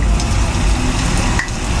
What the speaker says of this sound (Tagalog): prito muna natin yung ating talong